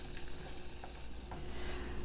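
Raisin pie filling of raisins and sugar bubbles at a steady simmer in a pot on the stove while a spoon stirs through it, giving a continuous soft hiss with faint scraping strokes.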